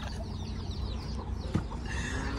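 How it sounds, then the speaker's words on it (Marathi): Domestic chickens clucking and calling in a farmyard, several soft overlapping clucks over steady background noise, with a brief louder squawk near the middle. "कोंबड्या बघा कोंबड्या"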